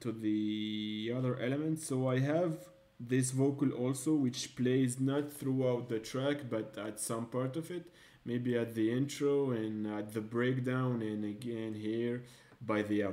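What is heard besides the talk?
No everyday noises stand out.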